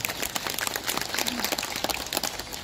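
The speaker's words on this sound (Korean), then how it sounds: "감사의 박수 부탁드립니다" Applause from the gathered audience at a Buddha's Birthday lantern-lighting dharma ceremony in Eunpyeong-gu, Seoul, a dense, moderately quiet patter of clapping lasting a couple of seconds.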